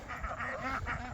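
Ducks being moved toward water on a small homestead quack in a quick, rhythmic series of nasal calls, fairly close and moderately loud over a steady outdoor background.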